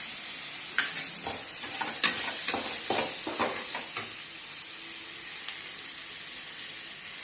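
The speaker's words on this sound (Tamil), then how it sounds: "நல்லா வதக்க போகிறோம்." Tomatoes sautéing with chilli powder and salt in a pan for Tamil tomato rice, giving a steady close sizzle broken by repeated scraping stirs of the spoon.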